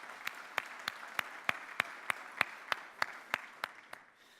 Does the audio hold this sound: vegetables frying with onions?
no